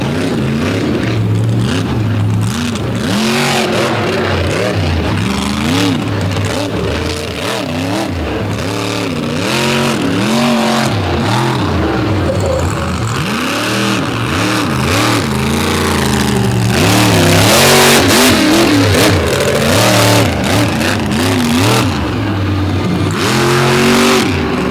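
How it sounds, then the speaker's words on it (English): Big monster truck engines roar and rev continuously on pavement at a Lake Erie racing event, loud and close with repeated rising and falling throttle sweeps, no talk. "what it's like to drive one of these big monster trucks on pavement"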